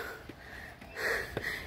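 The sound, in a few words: panting while hiking up a steep trail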